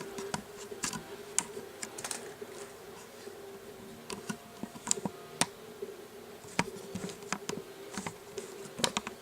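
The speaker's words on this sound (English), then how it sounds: "So I'm just going to put the keyboard down." A laptop keyboard being handled and set down during laptop disassembly, heard as scattered light plastic clicks, taps and small knocks at close range over a faint background hum.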